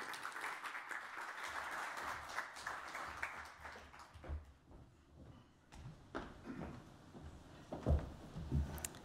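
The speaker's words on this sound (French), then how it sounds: "Vos applaudissements." Quiet audience applause welcoming the president of a Belgian federal economy service at a webinar event, a faint smattering of clapping that fades midway, followed by scattered thumps and rustling.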